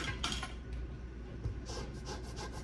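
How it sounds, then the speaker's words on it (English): An orange is zested on a grater in the kitchen, producing soft rasping strokes that repeat closely in a steady scraping rhythm. "We need to zest our orange."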